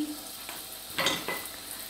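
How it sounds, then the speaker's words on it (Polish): Faworki dough sizzles and crackles in hot oil in a saucepan, a steady close frying hiss with a few sharper bursts as pieces drop in. "I teraz zaczynamy smażyć."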